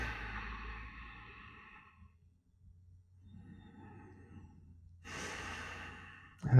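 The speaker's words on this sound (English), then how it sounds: "Take a deep breath." Slow deep breaths during a guided breathwork and tapping session: a long airy exhale, a quiet pause, a softer inhale, then another strong breath, close and alone with no talk.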